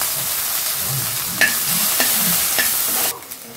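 Ginger garlic paste sizzles loudly in hot tempering oil with urad dal and curry leaves for cabbage poriyal, a bright continuous crackle with a few spatula scrapes and taps before the sizzle suddenly drops.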